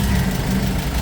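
A Kia K2500 with a heavy white-smoke problem starts and runs at a steady idle, a loud, close, continuous low engine rumble with no pauses.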